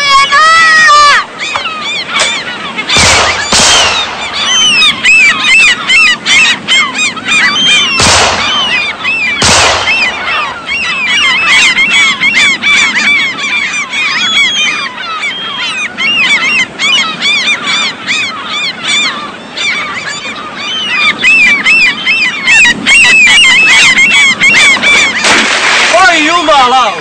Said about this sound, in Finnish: Anna niiden lintujen olla!